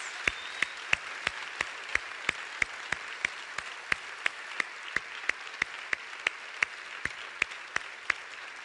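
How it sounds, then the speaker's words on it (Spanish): Applause from a church congregation, with sharp, evenly spaced claps ringing out steadily over a softer wash of clapping for the whole stretch. "Dale un aplauso generoso, grande a Dios."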